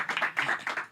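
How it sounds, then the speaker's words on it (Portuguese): Brief audience applause after a talk on mental health, a short burst of many hands clapping at moderate loudness, fairly close, with no speech over it. "Palmas para essa usina, gente."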